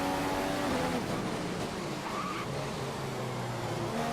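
An F1 2015 race car at the British GP, its engine whining loudly and continuously as it shifts and accelerates out of a corner, with faint tire noise underneath.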